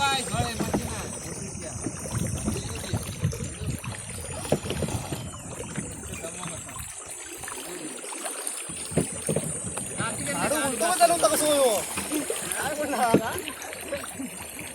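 A wooden rowing boat races on water in the Konkan region. Paddles splash and churn the water throughout, while excited voices shout and call over the wind-buffeted rowing.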